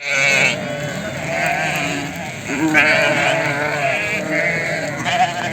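Many lambs and ewes bleat loudly and continuously, their overlapping wavering calls forming a dense, close chorus.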